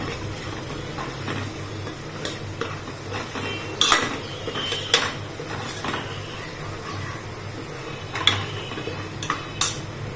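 Vegetables stirred with gram flour in a pan for a meal made without onion or garlic: intermittent metallic scrapes and light clinks of a spoon against the pan over a low, steady background, with no speech.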